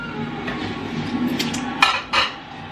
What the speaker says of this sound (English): And just a little mix in the bowl.